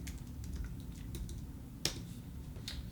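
Quiet, close typing on a computer keyboard, a run of light, irregular key clicks with one sharper tap midway, over a low steady background hum and no speech.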